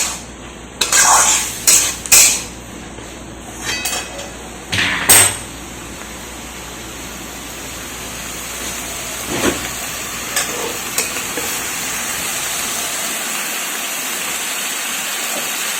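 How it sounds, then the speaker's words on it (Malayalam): Potatoes being stirred and sautéed in a pan for Bengali aloo dum: several sharp scrapes and clatters of a spoon against the pan early on, then a softer steady sizzle with occasional light stirring knocks. "നന്നായിട്ട് ഇളക്കി വഴറ്റി യോജിപ്പിച്ച് അങ്ങനെ നമ്മൾ ചെയ്തുകൊണ്ടിരിക്കുകയാണ്"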